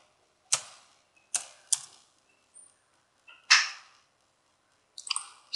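A handful of isolated, crisp key clicks from a computer keyboard while a number is entered, each tap sharp and separate with silent gaps between, close and fairly clear.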